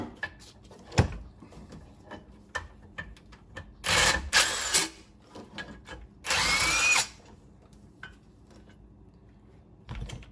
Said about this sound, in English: So we'll go ahead and take out our two center bolts.